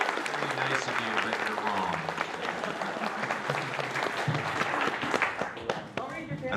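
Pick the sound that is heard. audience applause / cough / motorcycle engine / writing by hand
audience applause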